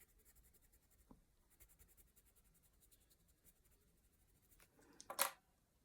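Colored pencil strokes on paper while colouring a flower, faint soft scratching close up that builds to a brief firmer scribble near the end.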